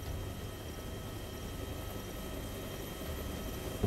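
A helicopter in the video game DayZ, a low steady rotor drone with a constant engine hum, moderately loud and continuous, with no voices over it.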